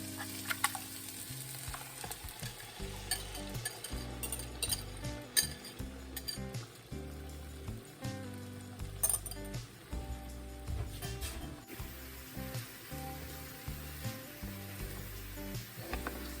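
Eggs and onions scramble in a non-stick pan, with a soft sizzle beneath repeated clinks and scrapes of a utensil stirring against the pan, steady and close throughout.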